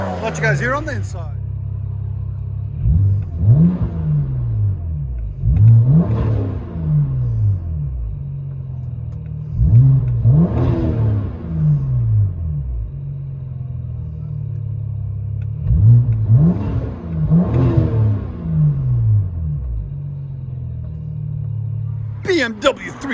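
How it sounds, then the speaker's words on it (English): A tuned 2007 BMW 335i with a 3.0-litre engine and rear muffler delete revs repeatedly, heard from inside the car, with rising and falling blips over a steady idle drone. "BMW 335i with a rear muffler delete."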